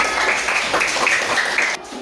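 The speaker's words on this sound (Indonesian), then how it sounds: "Ayo, tepuk tangan kita semua." A classroom of students clapping together, heard as a dense, steady patter of close applause that cuts off abruptly just before the end.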